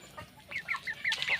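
A two-month-old stag, a young rooster, gives a quick run of soft, close clucks, several short calls in succession with no other sounds.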